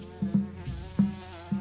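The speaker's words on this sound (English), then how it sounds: "That's why it's called a carpenter bee." A furry carpenter bee buzzes in short, close bursts that come and go, each a low droning hum lasting a fraction of a second, with quieter gaps between them.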